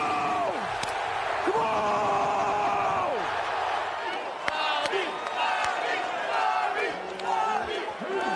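Arena crowd cheering and chanting at an NBA Finals game in Milwaukee, a loud roar with rising chants and whoops, while voices talk nearby.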